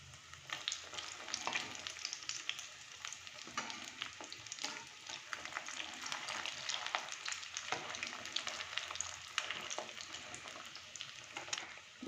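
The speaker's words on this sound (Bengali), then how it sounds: "এবার এগুলোকে একটু লাল লাল করে ভেজে নেব।" Egg kebabs fry in a fair amount of hot oil, giving a continuous crackling sizzle with scattered pops and spits, moderately quiet and steady throughout.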